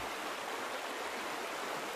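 A flowing forest stream rushes steadily in the hunting video game Cabela's Big Game Hunter Pro Hunts. The even, hissing water sound is heard alone, close by and constant, with no breaks.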